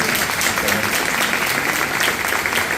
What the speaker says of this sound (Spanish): Yo quiero un aplauso para el Señor.